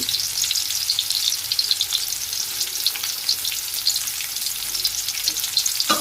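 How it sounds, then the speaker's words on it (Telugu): Onions frying in hot oil for a hotel-style chicken roast, a steady dense sizzle with crackling throughout, close and fairly loud with no voices. "ఉల్లిగడ్డ ఎర్రగా కానిద్దామండి"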